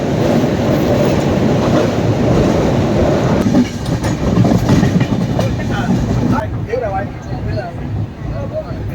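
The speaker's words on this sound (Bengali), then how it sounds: "একের পর এক জানা অজানা স্টেশন পার করে এগিয়ে চলেছে আমাদের ট্রেন দুরন্ত গতিতে" A passenger train on the Kolkata to Darjeeling route runs fast past stations near Dankuni Junction, with a loud, continuous rumble and rhythmic wheel clatter heard from on board, while a person talks over it.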